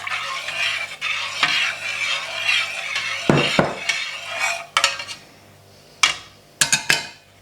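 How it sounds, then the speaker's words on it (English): Vodka being stirred into homemade blackberry liqueur, a spoon scraping and swirling steadily in a container, with a few sharp clinks of utensil against glass toward the end, close and fairly loud, no talking. "I've chosen vodka, so I'm just stirring that in now"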